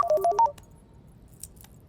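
A short run of phone beeps from an incoming call, five quick tones in a row, then a faint electronic blip before near silence.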